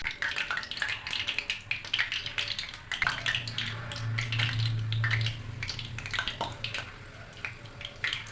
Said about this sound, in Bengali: তেলটা গরম হয়ে গেছে, এবার আমি আস্তে আস্তে বড়াগুলো দিয়ে দেবো।